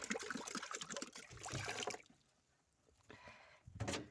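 Water is poured into animal drinkers during morning feeding, a splashing, trickling flow for about two seconds that stops, then resumes faintly and returns louder near the end.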